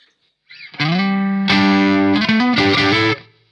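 Distorted electric guitar through a Marshall ST20 amp on its Plexi setting, sounding a few loud sustained chords and notes one after another, ringing alone and fading out at the end.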